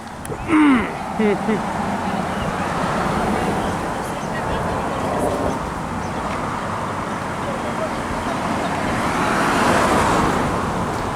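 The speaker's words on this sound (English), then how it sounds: "And I'm just gonna wait for the bus. There it is." At a Miami roadside stop, a city bus approaches through traffic with a steady road rumble that swells toward the end, while a voice briefly speaks near the start.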